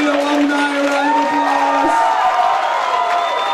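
A high-school improv night audience roars with cheering and crowd noise for alumni, a continuous wash of voices and whoops filling the room at steady loudness.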